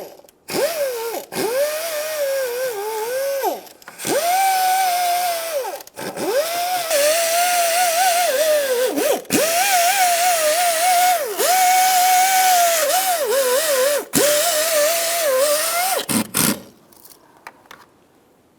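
A power tool whirs loudly against a 1997-2006 Jeep Wrangler cylinder head during exhaust manifold replacement, its motor whining in long sustained runs that dip briefly as it is eased off and back on several times before stopping.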